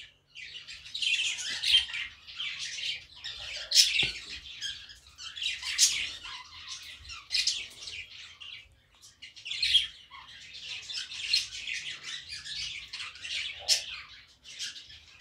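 Budgerigar chicks and an adult budgie chirp and tweet continuously in dense, busy bursts, fairly close and lively, with no talking.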